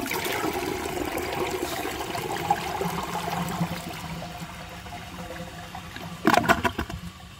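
A 1992 Universal-Rundle Atlas toilet with its original flush valve and a standard flapper flushes close by. Steady rushing water drains and slowly tapers off, then a short, louder burst of gurgling comes near the end.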